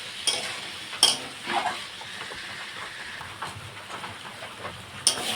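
Potatoes sautéing with cumin, ginger and chilli paste in a pan, a soft low sizzle with a few scraping stirs and clinks, close and fairly quiet, no talking.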